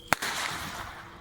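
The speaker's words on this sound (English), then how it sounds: "Look at the fireworks over there." A single sharp firework bang cracks out nearby in a backyard display, followed by a brief hissing crackle that fades quickly.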